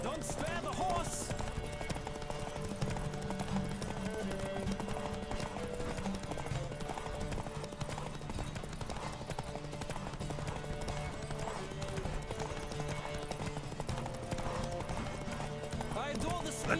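Rapid hoofbeats clatter steadily as a horse gallops in The Witcher 3, layered under music and game sound effects at moderate loudness.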